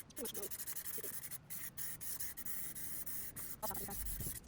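Spray can hissing paint onto a Nissan 300ZX body panel in short bursts, with brief pauses between passes, fairly close and steady.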